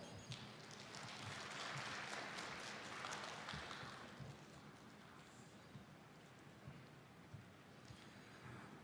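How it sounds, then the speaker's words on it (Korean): Broadband applause from an audience at a Korean environmental R&D briefing session, welcoming a speaker, sustained and fairly steady throughout, thinning slightly toward the end. "큰 박수로 맞이해 주시기 바랍니다."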